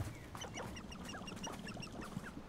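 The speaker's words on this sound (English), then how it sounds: "Birds." Birds chirp and call repeatedly in a Hogwarts Legacy game world, bright twittering notes scattered over a steady ambient bed with low background hum, no voices.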